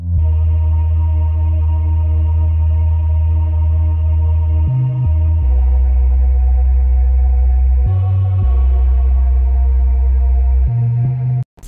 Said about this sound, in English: This is the bass line